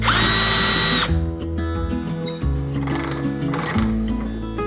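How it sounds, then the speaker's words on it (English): A power drill bores holes in a wooden clock frame, its motor whining in several bursts with pitch shifts as the bit bites and eases, close and fairly loud. "So now it's a matter of drilling some holes and put some screws here to hold the frame together."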